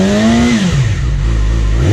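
A car engine, said to need a tune, revs loudly and close by with a stumbling double rev, its pitch rising, dipping as it hesitates, then settling into a rough steady drone before climbing again.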